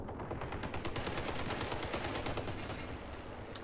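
Rapid, continuous machine-gun style gunfire in the vehicle combat game Crossout, a steady rattling stream of shots heard close and without talk.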